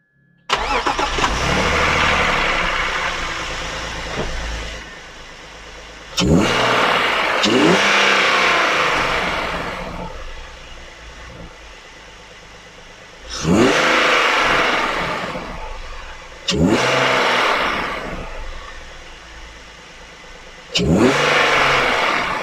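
A car engine fitted with a cone air filter revs up repeatedly in several sharp bursts, each roaring briefly then falling back to a quiet idle between.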